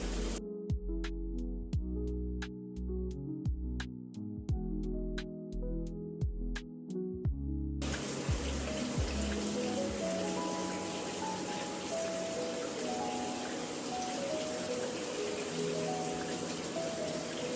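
Water runs steadily with a broad, even hiss while hair is washed with coconut-scented Aussie shampoo, starting abruptly after a short run of soft musical tones and continuing close and unbroken to the end.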